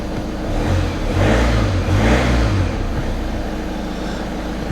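A cheap Volkswagen Passat estate's engine runs steadily while warming up, a loud, close, continuous low rumble with a slight swell partway through and no speech.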